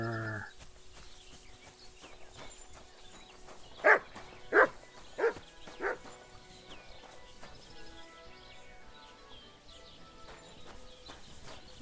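A dog in the medieval role-playing game Kingdom Come: Deliverance II barks about five times in a steady run, fairly close and clear over a quiet ambient game soundscape with no talk.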